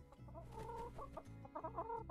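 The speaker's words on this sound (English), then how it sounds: "We shall pet the chicken." Chickens cluck steadily in the farm game My Time at Sandrock, a busy run of close, overlapping clucks and squawks with a short dip partway through, heard alone with no talk over them.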